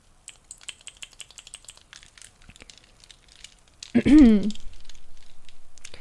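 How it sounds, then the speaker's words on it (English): A clicky bracelet being clicked over and over by hand, a soft rapid run of light plastic clicks close up for about four seconds before a voice starts talking. "This thing is, now that I'm clicking it, I can't stop, actually."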